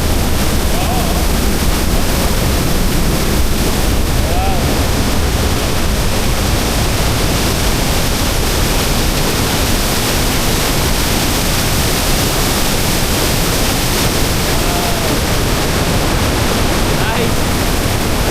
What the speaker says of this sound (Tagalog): Dito babagsak yung tubig.